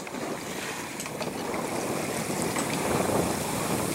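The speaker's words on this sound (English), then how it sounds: "Well, I've been out here on the ocean filming dolphins." Sailing boat out on open ocean, with steady wind buffeting and waves washing against the hull, a continuous broadband rush that grows slightly louder toward the end, no voices.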